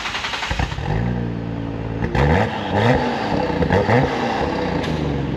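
A Nissan Skyline R34 GT-R engine revs hard nearby, its pitch rising and falling through several sharp throttle blips with a raspy, rumbling exhaust.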